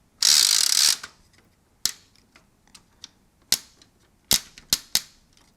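Barbie toy typewriter mechanism clattering and jamming: an opening burst of dense rattling, then sparse sharp clicks and snaps at uneven intervals, close and fairly loud with no talk.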